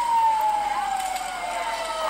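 A rescue boat's siren blares while it speeds toward a barge after a tourist boat accident off Fort Lauderdale in 1997: one loud, close, continuous wailing tone that slides slowly downward, over a background roar.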